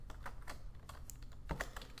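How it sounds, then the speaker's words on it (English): Typing on a computer keyboard while entering a command in trading backtesting software: a quick run of soft, close keystroke clicks at an uneven rhythm, fairly faint over a low background hum, with no voice. "we'll just type open,"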